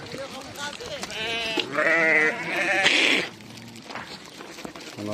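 A sheep bleats loudly and close in several drawn-out, wavering calls, with people talking nearby before and after.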